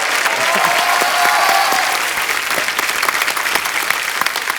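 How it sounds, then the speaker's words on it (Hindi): A studio audience at a comedy show bursts into loud, sustained applause, a dense wash of clapping that carries on for several seconds with crowd noise mixed in. "एक बार जोरदार तालियां"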